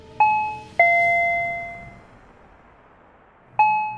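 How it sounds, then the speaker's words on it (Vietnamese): A doorbell chimes twice in quick succession, two clear ringing tones fading slowly, then a pause and another chime starts. "Âm thanh của tiếng chuông cửa lần này vang lên sao khác quá."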